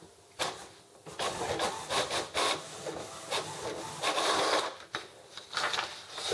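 HP Photosmart 5510 inkjet printer fitted with a continuous ink system printing a nozzle check sheet, with repeated bursts of mechanical whirring and scraping as the carriage sweeps back and forth, fairly close and steady without talk.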